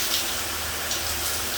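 A high-pressure apartment tap runs in a steady, close, hissing gush of water, continuous and even throughout.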